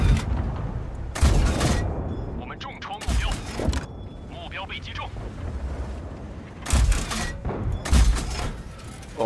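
Tank gunfire in the World of Tanks video game with a Vickers Mk. E Type B or Renault NC 31: several loud, heavy booms with rumbling tails, some close together, while someone talks in between.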